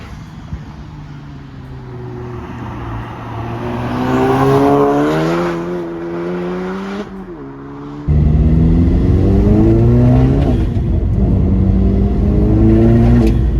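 A 400 bhp VW Polo GTI fitted with a Golf R turbo accelerates hard through the gears, its engine note rising, dropping on each shift and climbing again, loud and close from inside the car.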